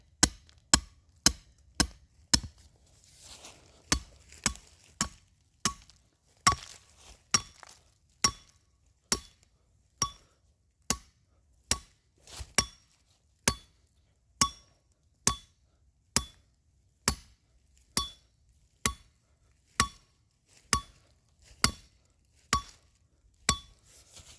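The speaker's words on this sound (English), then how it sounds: "We're gonna take our hammer, and you're going to hammer that in as far as you can get it." Sharp metallic strikes of a hammer driving a steel trap's stake into the ground, about two dozen blows in a steady, even rhythm, close and loud with brief pauses early on.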